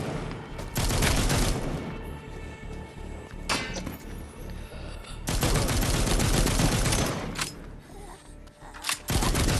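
Gunfire in the zombie video game The Walking Dead Onslaught, with dense bursts of rapid shots and a few sharp single cracks, loud and close across most of the stretch, separated by brief lulls.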